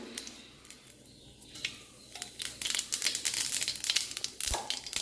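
Mustard seeds and cumin splutter in hot coconut oil, a close scatter of sharp irregular pops and crackles that grow denser and louder over a few seconds, with no talk.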